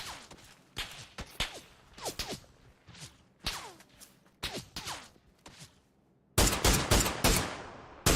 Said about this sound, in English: Someone else shooting me